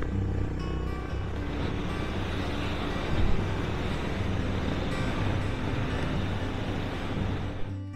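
Honda CB350 and KTM RC200 motorcycles riding past on an open road, a steady broadband engine and road roar that holds for the whole stretch with a slight swell partway through, with no talk.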